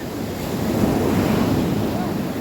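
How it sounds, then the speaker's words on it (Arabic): Rough surf roars steadily with heavy, continuous wash and wind buffeting the microphone, no breaks between waves. "صراحة بحر واعر."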